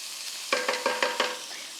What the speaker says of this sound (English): So you see here that the sausage has a little bit of like browning on it.